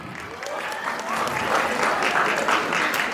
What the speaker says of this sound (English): Give a big applause for grade 9.